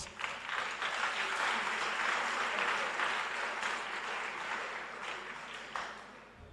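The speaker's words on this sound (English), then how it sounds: "Can you give them a round of applause?" Sustained applause from an audience at an outdoor bicycle handover event with a deputy transport minister, dense and steady clapping that fades slightly toward the end, with no talk over it.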